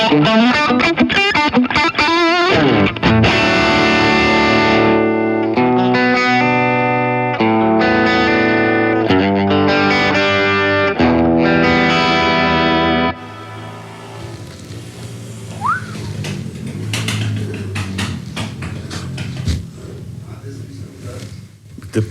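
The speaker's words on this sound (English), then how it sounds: "So this was the Kemper profile, and now we listen to the original amp." Loud distorted electric guitar played through a Kemper amp profile, with chugging, sustained chords and riffs for about thirteen seconds, then dropping to a quieter, thinner passage as people talk over it.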